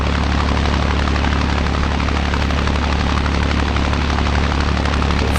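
Engine of a Cessna 172 in the Flight Unlimited Quest 3 flight game drones loud and steady throughout, a constant broadband roar with no breaks or talk.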